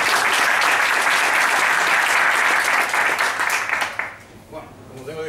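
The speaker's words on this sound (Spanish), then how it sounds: "pon un fuerte aplauso para que..." Loud audience applause at a Python developer conference talk, dense continuous clapping that fades out after about four seconds into quieter room sound with a voice beginning.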